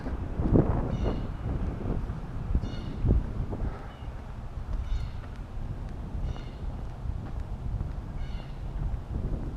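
Wind gusts buffet the microphone during a walk in Sea Isle Park in Memphis, a faint, uneven low rumble with soft recurring swells and a few brief thumps.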